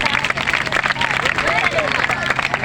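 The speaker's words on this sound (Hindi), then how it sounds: "जोरदार ताली बजा दो आप लोग" A large audience claps loudly and energetically at a Hindi talk, dense applause with crowd murmur and cheering mixed in, steady throughout.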